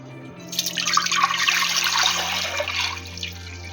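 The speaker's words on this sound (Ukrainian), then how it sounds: "сливи ще пустять сік. І пустили сік. Тепер його треба злити." Juice drains from a container of marinated plums in a steady, close pouring splash that swells and trails off over a few seconds.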